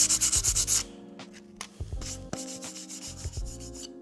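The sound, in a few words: sandpaper rubbing a timber floor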